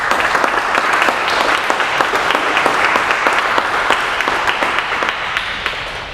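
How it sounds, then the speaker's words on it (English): An audience at an academic research award event claps steadily and loudly, a dense sustained round of applause that tapers slightly toward the end, with no talking over it. "Big round of applause for this."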